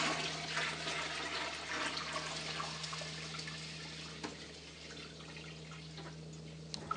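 Water poured from a bucket into a home aquarium being set up makes a steady, continuous rushing and splashing that runs unbroken for several seconds, close by.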